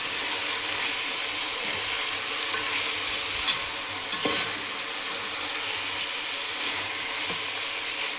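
Vegetable rice with chopped coriander stirred in a hot pan, a constant close sizzle with scattered scraping and tapping from the stirring, no voices.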